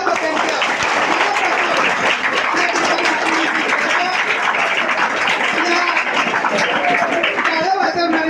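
A hall audience at a Guru Purnima function in Kolhapur claps steadily and loudly for the full stretch: a dense, unbroken wash of many hands, no single claps standing out.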